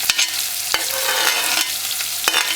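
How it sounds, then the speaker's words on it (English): Loud sizzling of food frying in a pan, a constant crackle broken by a few sharp scraping knocks from stirring. "let that cook for a little, for 30 seconds"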